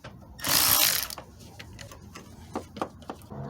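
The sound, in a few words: wrench loosening 10mm nut on battery negative cable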